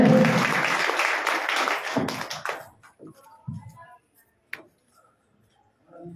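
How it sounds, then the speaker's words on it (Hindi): An audience at a community gathering claps loudly for about two seconds, then the applause breaks into a few scattered claps and taps and fades into near silence. "एक बार तालियां जोर वाली बजे भाई"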